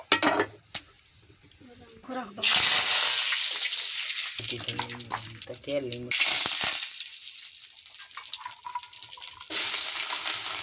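Cumin seeds and curry leaves sizzling in hot oil in a home kitchen, a loud steady crackling hiss in two long bursts with quieter gaps between, brief clatters and soft background sounds in the pauses.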